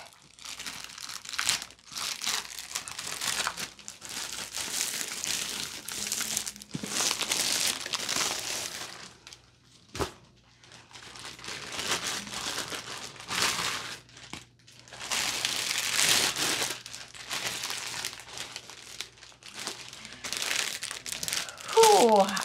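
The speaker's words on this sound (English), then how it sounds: "I'm gonna get into the plastic now." Plastic cover peeled off a diamond painting kit, giving loud, close crinkling and tearing bursts that come and go in several waves with brief pauses between them.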